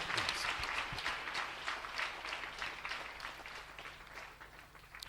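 A church congregation applauds steadily throughout, a dense, moderately distant wash of clapping that holds level without pause.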